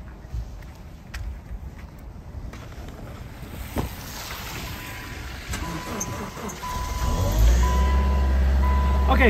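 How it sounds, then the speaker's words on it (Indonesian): A car engine starts in freezing snow at minus 11 degrees Celsius, its low rumble swelling loud in the last few seconds over wind noise, with a steady warning beep tone and some talking. "pertama saya mau hidupin mobil saya dulu"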